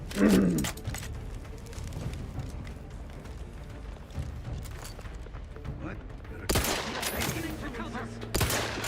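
Gunfire in the video game Outer Worlds 2, scattered rapid bursts of shots and loud booms at mid distance, with a sharp cluster near the start and heavier bursts near the end, someone talking in between.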